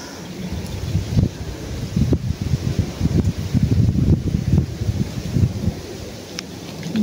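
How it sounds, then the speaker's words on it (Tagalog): Strong gusting wind buffets the microphone on a fishing outing, a dense low rumble that swells and falls steadily throughout with no clear voices. "Lumakas kasi hangin guys"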